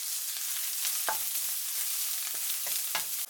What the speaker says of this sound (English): Add the grated ginger. Stir for 1 minute.